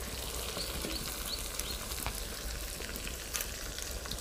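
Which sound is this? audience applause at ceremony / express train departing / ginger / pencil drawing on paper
ginger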